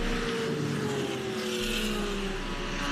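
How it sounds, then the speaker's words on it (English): Race cars run flat out at a road-course event, a Ginetta and a BMW among a large field, their engines a loud continuous roar with a falling pitch as they pass. "So good racing throughout this big field of over 25 cars, all going flat out."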